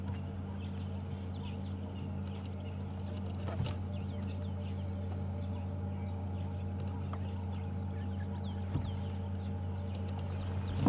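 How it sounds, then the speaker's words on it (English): Small ground birds give faint, scattered contact calls from the grass on a sunrise safari drive, set over a steady low vehicle hum with occasional soft clicks and knocks. "It's quite nice listening to the little ground birds. They have these little contact calls as they move through the grass."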